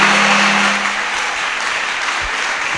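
A church congregation claps together in sustained, dense applause at a memorial gathering. The clapping is loud and close, with a low hum briefly underneath at the start.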